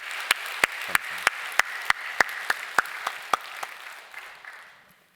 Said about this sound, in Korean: 우리 샬롬 찬양대 축복하는 뜨거운 박수를 좀 보내주시면 좋겠습니다